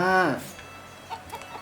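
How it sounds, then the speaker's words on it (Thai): Chicken on a farm in Story of Seasons: Pioneers of Olive Town gives one loud, close cluck at the start, followed by a few faint softer clucks. "เนี่ยเราก็มาดูแลไก่นะ"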